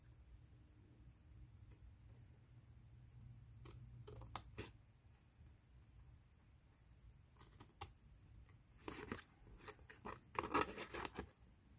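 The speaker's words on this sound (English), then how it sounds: "We go my scissors in and cut across" Quiet, close snips of scissors cutting paper cardstock for a pop-up gift card holder, a few scattered crisp cuts and then a quicker run of snips near the end.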